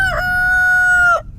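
A rooster crows loudly and close by in a backyard garden kept with chickens, a single long, tonal cock-a-doodle-doo that holds steady for about a second before breaking off.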